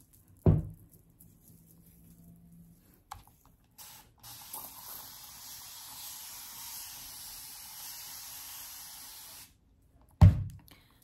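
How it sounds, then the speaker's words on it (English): A hand spray bottle of hot water mists onto hair in a long steady hiss lasting several seconds, framed by loud clicks of the trigger or bottle handling at the start and end. "So this is hot water in my spray bottle"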